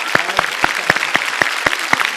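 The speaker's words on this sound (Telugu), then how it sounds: "ఒకసారి గట్టిగా క్లాప్." A small audience at a TV show claps in a few loose, evenly spaced hand claps over a light background murmur, rather than sustained applause.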